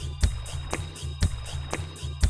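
Rhythmic metallic scratching of knitting needles rubbed together, repeating in a quick looped pattern over a low pulsing beat.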